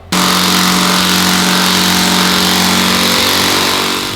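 An AEG OMNI18CXLI cordless multi-function tool with a 90-degree attachment drives screws into timber, its motor a loud, steady, close whine that runs unbroken for several seconds without talk.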